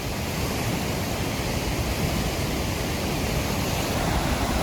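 A steady, dense roar of water falling at the Falls of Bruar in Scotland, swollen by recent rain, rushes continuously and fairly loudly, unchanging throughout, with no voices.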